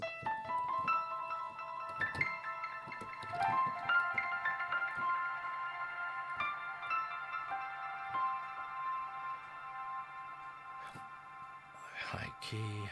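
Sustained piano notes ring out through a Valhalla Supermassive reverb with a huge, washy tail that blurs them into a shimmering wash, ending with a brief percussive clatter.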